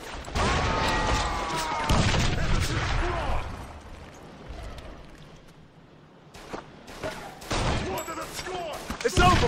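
Gunfire at an explosive barrel in 50 Cent: Blood in the Sand, a dense loud volley of shots and crashing impact opening the clip, easing into a lull before a few sharp closing cracks; voices are also present.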